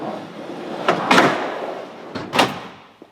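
A bike tray sliding out of a van's rear, heard as a low running slide with two sharp metallic clunks, close and moderately loud, then a small tap at the end.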